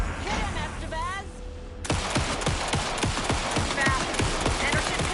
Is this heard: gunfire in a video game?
yes